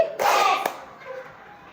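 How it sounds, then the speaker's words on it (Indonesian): A group of students in a classroom lesson claps together once in a short, loud burst, followed by quiet room noise. "Coba tepuk semangat 1 kali."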